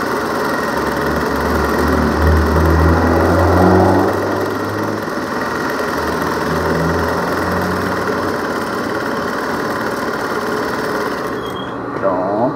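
A domestic sewing machine runs steadily through a seam, a continuous mid-pitched mechanical hum with slight speed swells, close and loud, stopping near the end.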